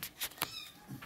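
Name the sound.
cat meowing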